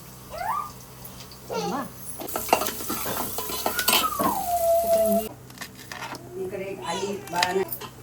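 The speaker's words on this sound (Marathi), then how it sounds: "सगळं घातलं सगळं तेलावरती परतलं" Onion, cumin, mustard seeds, asafoetida and curry leaves fry in oil in a home kitchen, with loud close sizzling and spoon-against-pan stirring while people talk over it.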